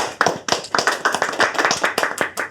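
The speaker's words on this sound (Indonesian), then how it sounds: "Kasih tepuk tangan dulu dong" A small studio audience at the opening of a talk show in Bandung claps briefly and unevenly, the individual hand claps sharp and close.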